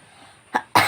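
A young boy at a home birthday gathering gives a short cough, followed moments later by a louder, harsher cough, close and clear.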